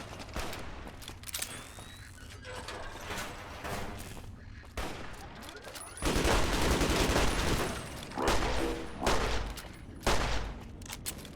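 Dense, continuous gunfire from a firefight in Fallout: New Vegas, with heavy overlapping bursts that grow louder and more intense in the second half, with no talking.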